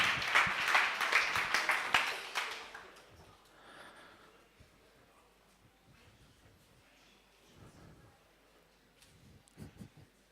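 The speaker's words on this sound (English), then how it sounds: "Round of applause." Brief audience applause at a startup competition, a burst of clapping for about two seconds that fades quickly into a quiet room with faint scattered noises.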